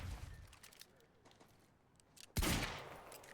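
Gunfire from the video game Quantum Break: a faint early burst followed by a loud, sharp shot with a lingering decay, quiet in between.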